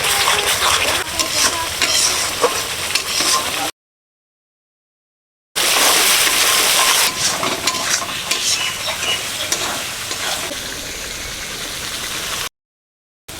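Steady, loud sizzling of turmeric, chili and ground cumin frying in oil in a pan, with a few light stirring scrapes, broken by two short silent gaps.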